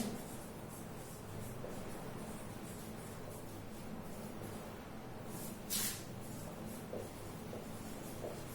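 A pen scratches out a physics definition for optics by hand, faint soft strokes continuing in a quiet room with a brief rustle partway through.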